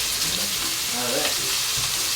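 Onions fry in Italian olive oil, a dense continuous sizzle close up with a few faint stirring scrapes and no talk.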